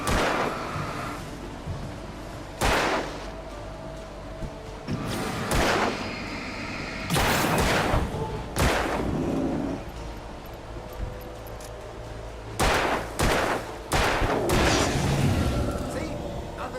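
Gunfire in a horror video game sounds as scattered loud blasts, single and in short clusters spread across the stretch, with booming tails and quieter gaps between them.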